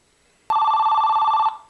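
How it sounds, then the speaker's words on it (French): A telephone rings once with a sudden electronic tone, held steady for about a second before cutting off, loud and close in a quiet room with no talk. "Ah, téléphone sonne."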